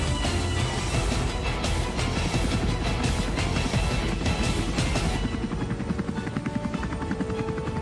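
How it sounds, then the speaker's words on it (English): A helicopter on board the Norwegian frigate Amundsen gives off a loud, continuous rotor thrum with rapid rhythmic blade pulses, heard alone and near, easing slightly toward the end. "The Norwegian warship also has two helicopters on board."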